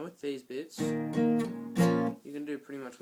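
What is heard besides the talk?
None of the usual background noises is heard.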